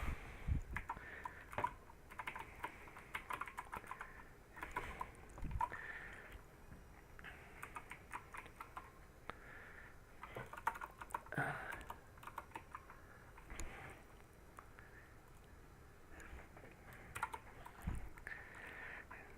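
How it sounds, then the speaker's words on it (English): Typing on a computer keyboard, with bursts of close clicking keystrokes that start and stop in irregular runs and a steady hum underneath. "I will type it in just to make sure it works."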